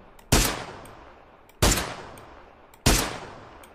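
Three loud, evenly spaced single gunshots in a video game, each a sharp crack that trails off into a decaying echo before the next shot, with no voices.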